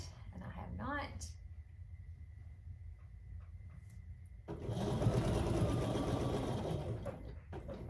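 A domestic sewing machine stitching fabric whirs in a short burst near the start. After a quiet pause it runs again in a louder, steady stretch. Someone speaks briefly over the opening.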